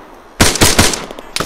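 ArmA 3 video game combat: a loud, close burst of rapid machine gun fire, several shots in quick succession, then a short pause and another shot at the end, no speech.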